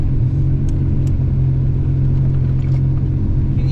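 Car engine with a Turbo 3800 idling high at about 2,000 RPM because its IAC valve is stuck open, a steady close droning hum at constant pitch with no talking.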